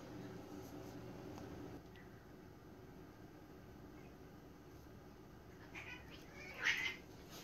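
A cat meows once, briefly and faintly, near the end of a quiet indoor stretch with low background hum.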